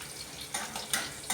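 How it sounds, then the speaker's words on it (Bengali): Chopped ginger sizzles in hot oil in a pan while cooking alu and bhindi sorshe jhal, a steady close hiss broken by three or four louder scraping stirs of a spatula. "এই আদাটা ভাজা ভাজা হয়ে যাচ্ছে।"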